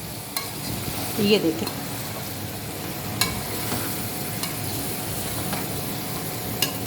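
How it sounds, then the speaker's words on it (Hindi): Spiced potatoes frying in a pan as they are stirred, a soft steady sizzle with occasional scraping and tapping of the utensil, and a few brief spoken words. "अब हम इसको एक दफ़ा अच्छे तरीके से मिक्स कर लेंगे ताकि मसाला जो है तमाम आलूओं के साथ यकजान हो"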